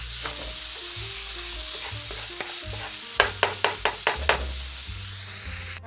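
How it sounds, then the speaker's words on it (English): Minced garlic sautéing in a pan over medium heat, a soft steady sizzle with a run of sharp scraping stirs partway through, close and unaccompanied by talk. "Now you want to add your minced garlic in. I'm going to let that saute for about a minute or so."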